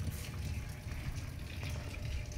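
Panasonic automatic washing machine taking in water again for its rinse cycle, a steady rushing gush of filling water holding constant throughout, close and fairly loud with no talking over it.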